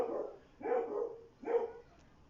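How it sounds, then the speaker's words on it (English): Dogs bark in three separate bursts, each a cluster of sharp barks of moderate loudness with short pauses between them. "Oh, great, the dogs again."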